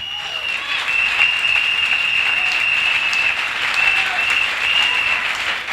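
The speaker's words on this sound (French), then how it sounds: "Une acclamation à Jésus-Christ" A church congregation claps loudly in acclaim for Jesus Christ during a worship service. The steady, dense applause runs throughout beneath a sustained high voice or tone.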